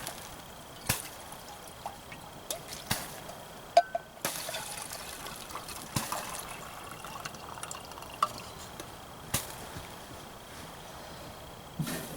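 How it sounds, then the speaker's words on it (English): Water poured into a pot for tea on a woodstove inside a wigwam, a soft continuous trickle and fill broken by scattered knocks and clinks, close by, with no talk. "Get some more water on here for some tea."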